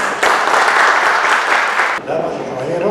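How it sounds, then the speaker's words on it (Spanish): A loud, dense burst of audience applause greets a speaker at a Colegio de Ingenieros del Perú evening event in Lima. It rings out for about two seconds before a voice starts speaking over the fading claps. "Recibámoslo, por favor, con un fuerte aplauso"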